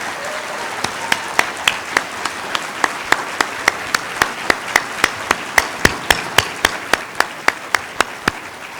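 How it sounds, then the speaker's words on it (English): Crowd applause at a 2018 congressional district debate for both candidates. A continuous wash of clapping runs throughout, with one loud nearby clapper landing sharp, evenly spaced claps about every third of a second. "we give a big round of applause to both of our candidates"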